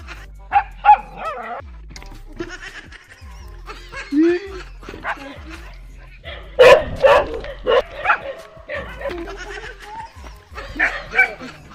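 A dog barks several times in short bursts at Christmas carolers, mixed with people talking and singing nearby.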